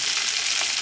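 Onion dropped into hot oil with curry leaves and green chilies for upma gives a brief, bright, continuous sizzle, close and loud, with no one speaking.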